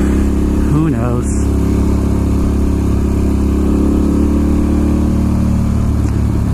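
A Ducati Monster S2R 1000 motorcycle is ridden on the road, its engine giving a loud steady drone with a brief rise in revs early on, while a rider talks over it.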